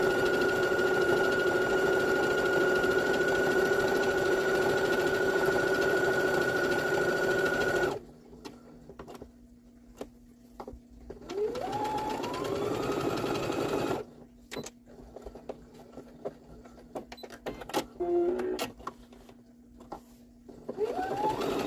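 Sewing machine stitching a wavy stitch across a cloth pad, a steady loud mechanical whir running continuously, then stopping and starting again in shorter bursts with quiet handling sounds between.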